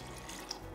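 Water poured into a pot of spiced rice for Khaleejy rice, a steady, faint, hissing stream with a soft trickle and no talking.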